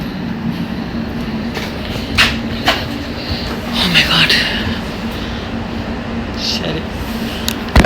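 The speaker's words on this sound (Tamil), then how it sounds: "எனவே இதுதான் அந்த ட்ரெயின், நாங்கள் போகிற ட்ரெயின்" A commuter train on the Watford Junction to London line rumbles steadily nearby with a low constant hum, a few clanks and brief squeals rising over the noise.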